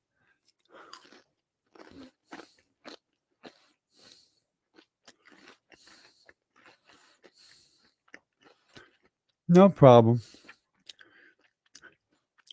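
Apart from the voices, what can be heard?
eating Cheez-It crackers, crunchy chewing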